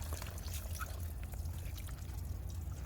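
Water jet rinsing soil from the roots of a giant water lily, a steady, continuous gushing spray of moderate loudness throughout, with no talking.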